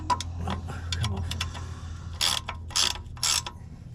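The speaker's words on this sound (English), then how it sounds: "Gotta tighten the bolts up there." A ratchet wrench tightens bolts on a SAAB 9-5 headlight level sensor, giving a run of quick clicking ratchet strokes followed by three louder, broader bursts of cranking, all close by with no talk.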